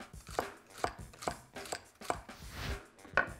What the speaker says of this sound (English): In the meantime, we'll just cut a little green onion.